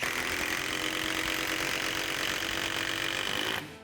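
A Procraft Industrial cordless impact driver runs at its third speed setting, a loud, steady, dense mechanical whir and rapid hammering that holds continuously for several seconds, then stops abruptly near the end.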